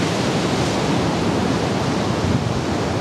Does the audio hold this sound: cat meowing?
no